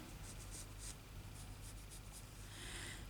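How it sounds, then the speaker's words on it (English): A pencil draws around a template on fabric for patchwork hexagons, making soft, close, repeated scratchy strokes in short bursts against a quiet room. "I'm going to draw around that, okay? And I can do that with a pencil"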